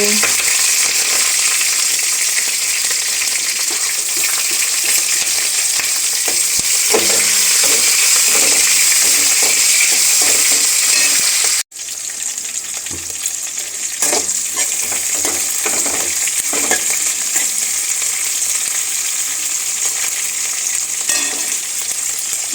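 Cumin seeds, dried red chilies and green chilies fry steadily in hot oil in a pan, a loud continuous sizzle with scraping stir strokes, cut by a brief break midway before the frying resumes.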